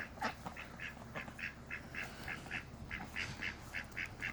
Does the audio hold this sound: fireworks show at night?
no